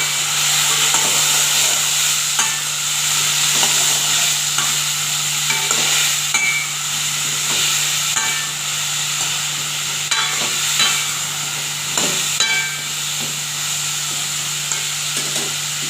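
Pieces of Dubai pumpkin sautéing in oil for a curry sizzle loudly and steadily up close, broken by frequent clinks and scrapes of stirring throughout.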